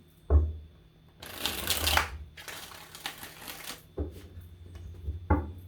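Playing cards being shuffled up close, two long riffling bursts separated by pauses, with a few sharp taps of the deck against a surface.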